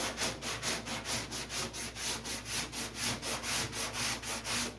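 A round Durablock sands body filler on the curved wheelhouse of a 1956 Mopar panel truck, about a dozen even back-and-forth rasping strokes in a steady rhythm, close and fairly quiet, with no talking.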